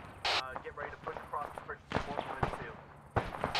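Gunfire in the military shooter ArmA 3: several sharp shots at irregular intervals, one early, then a cluster near the end, with radio-style voices talking over them.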